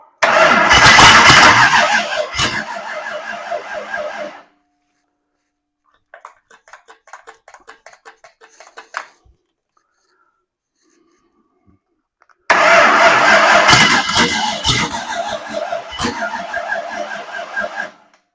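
A 302 V8 engine on a budget build cranks and catches in two loud bursts, each running briefly before cutting out. A quieter stretch of cranking falls between them, and a long silence follows.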